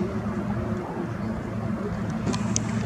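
Formula 1 racing powerboats roar on the water from a good distance, a steady droning engine hum with wind buffeting the microphone throughout.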